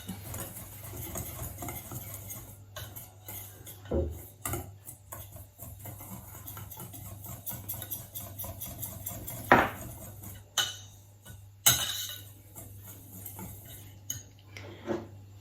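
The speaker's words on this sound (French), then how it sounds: "Je mélange au fouet." Sugar and almond powder whisked together in a bowl, a steady soft scraping and clinking of the whisk against the bowl with a few sharper knocks, close and moderately quiet, with no talk.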